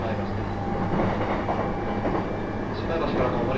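E233 series 3000 electric train running on the Ryomo Line between Takasaki and Maebashi, heard from inside the car as a steady low rumble with faint wheel clatter and continuous motor hum.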